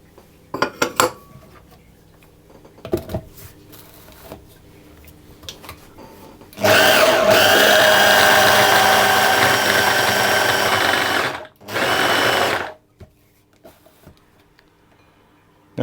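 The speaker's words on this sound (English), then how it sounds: "I'm going to process this in the flour until it just begins to clump" A food processor blends butter into flour for lemon tart dough, a loud steady whirring motor run of several seconds, a brief pause, then a shorter second burst, preceded by a few light clinks of handling.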